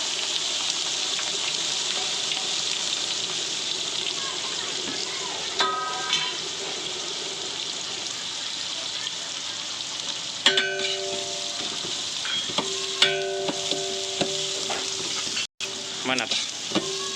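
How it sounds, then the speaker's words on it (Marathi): Onion frying in a pan for a hotel-style chicken dish alongside cumin and fennel, a continuous close sizzle with intermittent metallic stirring clinks and scrapes. "आता कांदा टाकला आपण याच्यामध्ये फ्राय व्हायला।"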